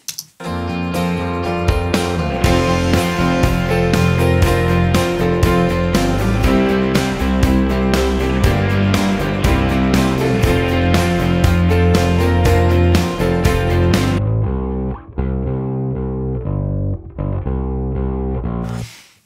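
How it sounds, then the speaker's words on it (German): A punchy electric bass with roundwound strings plays steadily with a gritty tone from an amp plugin, other instruments alongside, dropping to a sparser, quieter passage near the end. "Kerniger Drahtbass mit einem Verstärker-Plugin schon drauf"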